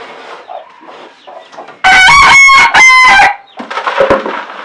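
Hens clucking softly in a composting chicken coop, broken by a loud nearby rooster crow in two long bursts before the clucking resumes.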